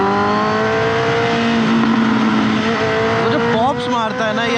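A car's exhaust gives a loud, steady engine drone with layered tones that climb and shift as it revs while driving, and a voice talks over it.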